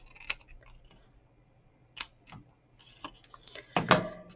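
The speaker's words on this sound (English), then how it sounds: "Cut one of the flaps so you can use that as a holder" Scissors cutting away a flap of cardboard on a handmade personalised candle gift box, a few separate short snips and crunches spread out, the last one louder and longer, close by in a quiet room.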